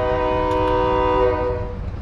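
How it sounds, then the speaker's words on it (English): Moving train in the video game Call of Duty DMZ, set in Al Mazrah: a steady, loud rumble with sustained horn-like tonal drones that fade toward the end of the short stretch, with no talk over it. "We're on a train."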